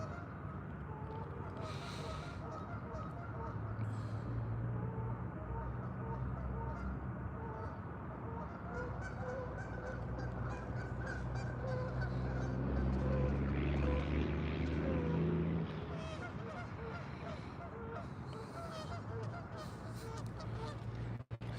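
Geese honking near a fishing spot where trout and carp are caught, the calls repeating through steady outdoor noise with a droning aircraft overhead, loudest around the middle.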